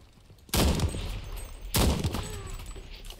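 Two loud bursts of rapid gunfire crack out in the video game Enlisted, each a sharp, close volley followed by a decaying rattle and echo, separated by about a second of quieter background.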